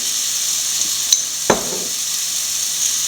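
Curry leaves hit hot oil for a pickle, giving a steady sizzling hiss that swells with a sharp crackling burst midway, then settles back to a continuous fry.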